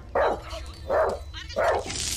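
Dog barking in the video game Fragile: three sharp barks, evenly spaced about three-quarters of a second apart, loud and close, with no voices over them.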